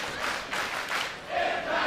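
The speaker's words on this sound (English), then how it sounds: "Sold out crowd here at the Rebel Entertainment Complex in Toronto" A sold-out crowd at the Rebel Entertainment Complex in Toronto during a TNA Rebellion 2023 wrestling event, roaring and chanting in swelling waves, distant and diffuse throughout.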